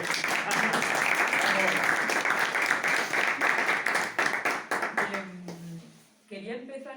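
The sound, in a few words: audience applause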